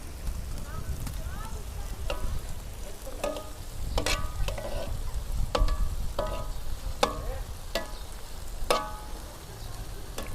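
Plov ingredients sizzle and fry in a pot over a wood fire, a steady close crackle broken by repeated sharp scrapes of stirring, with no talk.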